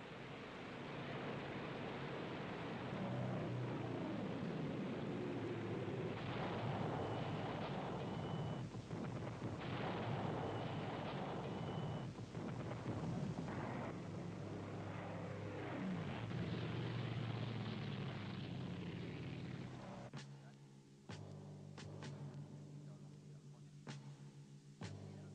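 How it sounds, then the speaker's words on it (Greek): German Stuka dive bombers over the island of Kefalonia in 1943, a loud wartime sound effect of roaring aircraft engines and rumbling blasts that builds and surges for about twenty seconds before dropping away abruptly into quieter sounds. "150 γερμανικά στούκας σκεπάζουν τον ουρανό του νησιού. Αρχίζουν να βομβαρδίζουν και να καταστρέφουν τα πάντα."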